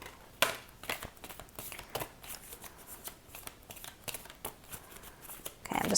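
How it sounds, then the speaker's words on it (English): A deck of tarot cards being shuffled by hand, a run of crisp riffling flicks and papery slaps in quick irregular bursts, close up with no talking. "let's do another shuffle and see what else comes up"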